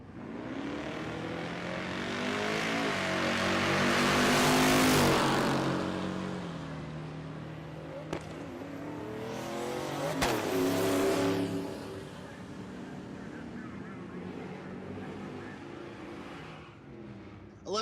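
A Volvo wagon and a 1998 Mustang in the limited street class launch side by side at a drag strip. Their engines roar and swell as they accelerate away, then fade into the distance, with a few sharp clicks along the way.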